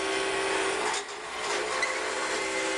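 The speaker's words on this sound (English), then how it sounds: "This is the jet drill press." A Jet drill press bores into an acrylic pen blank, giving a steady, close, high-pitched grinding whir with a brief dip in the middle before the cutting noise resumes; no one speaks.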